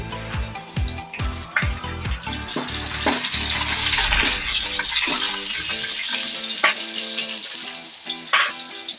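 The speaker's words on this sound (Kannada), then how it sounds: "2ರಿಂದ 3 ಎಸಳು ಬೆಳ್ಳುಳ್ಳಿ ಹೆಚ್ಚಿಟ್ಕೊಂಡಿದೆ, ಅದನ್ನು ಹಾಕ್ತಾ ಇದ್ದೀನಿ" Curry leaves and chopped garlic hit hot oil, starting with a few clinks and scrapes that give way to a loud, close, bubbling fry sizzle that continues steadily, with no speech.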